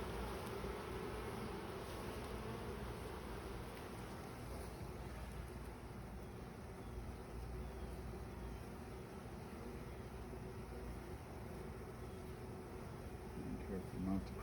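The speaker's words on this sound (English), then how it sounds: "Be careful not to crush any bees in the process." Honeybees buzzing from an open beehive during an inspection, a steady dense hum that runs the whole way at moderate level, close by, with low handling noise and no speech.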